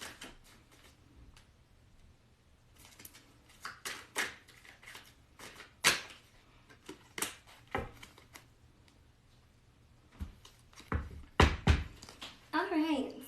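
Tarot cards being shuffled by hand in a quiet room, making a series of irregular, sharp slaps and riffles of varying strength, close by, with a longer burst near the end.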